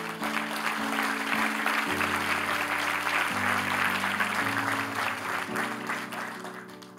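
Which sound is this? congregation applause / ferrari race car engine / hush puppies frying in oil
congregation applause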